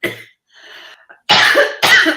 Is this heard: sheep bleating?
no